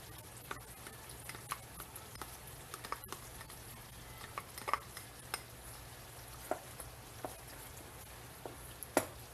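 Spoon stirring sour cream into a simmering pot of Pinoy-style beef stroganoff with mushrooms, making soft scraping taps and light clinks against the pot, fairly quiet and steady over a low hum.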